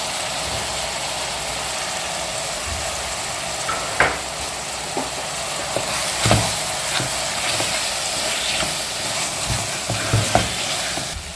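Roasted cashews and masala fry in a pan for a Goan cashew curry, giving a continuous close sizzle with occasional scraping clinks of a spoon as the mixture is stirred.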